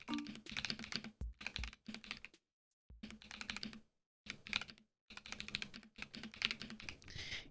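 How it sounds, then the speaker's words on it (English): Quick bursts of clacky typing on an Akko Cinnamoroll PC75v2 mechanical keyboard, rapid keystrokes grouped into short runs separated by brief pauses, close to the microphone and fairly soft. "I should also probably do a typing test"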